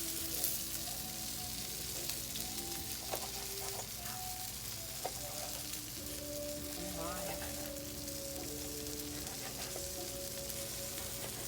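Txuleta beef steak sizzles on a grill in a steady, continuous crackle and fizz that holds at an even level throughout, with faint tonal kitchen sounds and possible background talk beneath.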